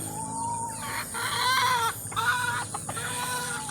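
Chickens cluck and chatter continuously nearby, with a rooster-like call mixed in over a steady farmyard background.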